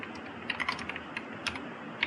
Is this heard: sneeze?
no